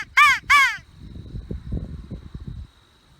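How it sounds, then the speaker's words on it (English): A crow gives two loud, clear caws close by in a windy open area. Gusty wind rumble and faint low sounds follow. "I heard a crow over that way"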